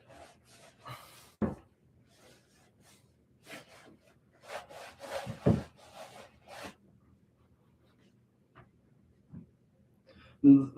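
Bickmore unscented boot cleaner and conditioner being rubbed by hand into leather boots, heard as soft, intermittent rubbing strokes with short bursts and pauses, fairly faint and close.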